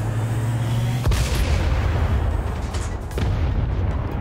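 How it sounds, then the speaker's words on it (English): Deep cannon booms in XCOM 2: War of the Chosen thud over a rumbling game soundtrack while defending the Avenger, one sharp blast early and another softer one later. "Cannon incoming."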